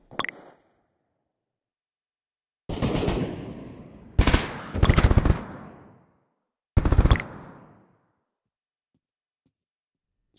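Automatic weapon bursts from bots battling in the Pavlov VR game: a brief shot, then three loud rattling bursts separated by silences, each trailing into a short outdoor echo, with no voices.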